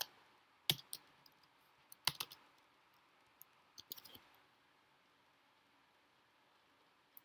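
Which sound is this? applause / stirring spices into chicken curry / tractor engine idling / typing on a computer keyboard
typing on a computer keyboard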